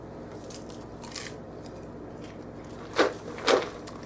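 Someone eats freshly made, salted popcorn close up, with a few soft crunches and two sharper, louder bites near the end.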